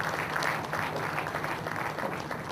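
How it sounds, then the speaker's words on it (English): Audience applause at an awards ceremony as a winner is called up, sustained mixed clapping from a hall crowd with slight rises and dips and a low hum beneath. "A round of applause please for Sachini."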